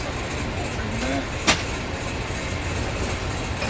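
A train runs on the rails, heard from inside a sleeper carriage in India: a steady low rumble with a single sharp click midway, under nearby talk.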